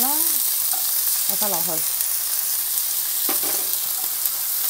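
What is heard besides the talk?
stir-frying sliced meat and noodles in a wok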